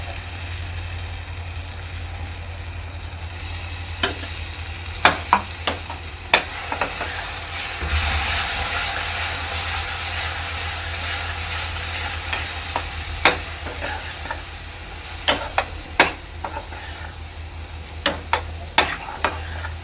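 Crushed pineapple roasts in ghee in a pan, with a low steady sizzle running throughout and sharp, irregular scrapes and clicks as a spoon stirs it. No voices.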